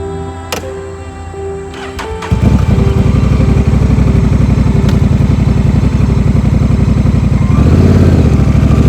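A motorcycle engine runs steadily while riding on the road, a loud, close, rapid rhythmic chugging that kicks in after a brief quieter start and continues without talk.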